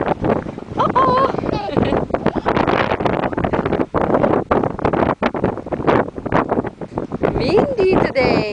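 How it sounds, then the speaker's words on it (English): Strong wind gusting across the microphone in a backyard on a windy day, loud continuous roaring buffets with brief dips, while a voice and an adult's voice come through faintly. "Windy today."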